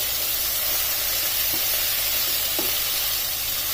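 Chicken, cabbage and coriander for spring rolls cook in a hot pan with a loud, continuous sizzle and hiss, broken by a couple of faint scraping stirs.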